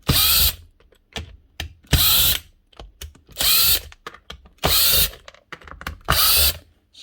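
A brushless power drill, a mid-weight model, runs in five short loud bursts with brief gaps between, ratcheting clicks and small mechanical noises filling the pauses.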